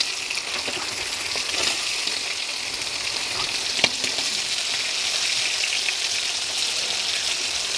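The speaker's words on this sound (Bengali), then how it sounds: "রসুন কুচি দিয়ে এবার ভাজা ভাজা করবো" Chopped garlic and onion fry in oil in a pan, giving a constant bright crackling sizzle that stays close and even, with a single sharp clink of a utensil partway through.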